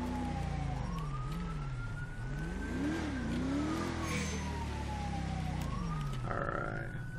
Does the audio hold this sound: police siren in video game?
yes